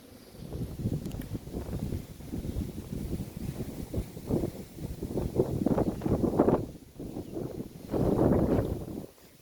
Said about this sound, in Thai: โอ้ยลมแรงมาก